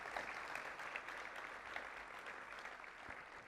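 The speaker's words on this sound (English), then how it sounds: "So let's give them a big round of applause." Audience applause for an award-winning country school at a secondary schools forum: steady, dense clapping sustained for a few seconds, fairly quiet and even, with no talk over it.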